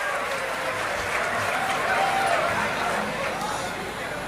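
Audience applause for graduates at the 20th convocation of Visvesvaraya National Institute of Technology, Nagpur: a steady, even wash of clapping from a large seated crowd, with faint murmuring underneath, holding at a constant level throughout.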